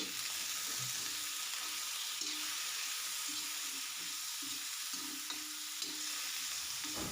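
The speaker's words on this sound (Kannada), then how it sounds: "ಈಗ ಇವನ್ನ ಚೆನ್ನಾಗಿ ಫ್ರೈ ಮಾಡ್ಕೊಳ್ಳೋಣ" Onion, tomato and green chillies fry steadily in a pan, a continuous soft sizzle with intermittent stirring scrapes close by, and no talking.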